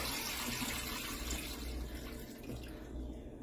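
Water pours steadily into a citrus pot, a soft continuous splashing and trickle close by, faint and alone with no talk.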